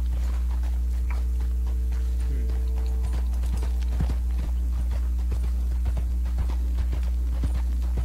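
Horse hooves clip-clop steadily in Red Dead Redemption 2 while riding toward Mexico, a close, regular rhythm of hoof strikes over a constant low ambient hum, no talking.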